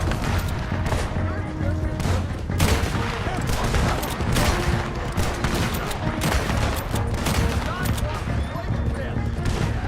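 Dense, continuous gunfire from a Red Dead Redemption 2 shootout, with rapid overlapping rifle and pistol shots forming a loud fusillade throughout, while voices shout over the battle.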